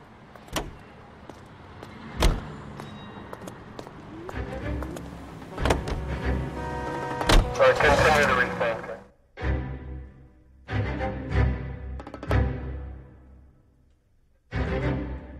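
A car driven in the LA Noire video game, with a door shutting, an engine and a passing vehicle sound under a voice, then a steady motor drone broken by a few sharp knocks.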